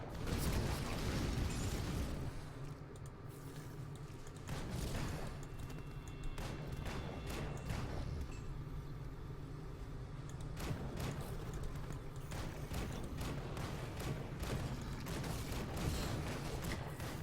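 Video game combat in Grim Dawn, a Commando build combining Soldier and Demolitionist skills with guns and bombs: a steady barrage of explosions and rapid gunfire, dense and continuous, with heavier bursts popping through a constant low rumble.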